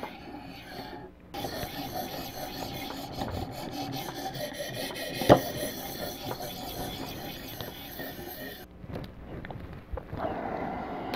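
A knife blade scrapes steadily across a sharpening stone on a ViperSharp knife sharpener, a close, continuous rasping with short pauses and one sharp click midway.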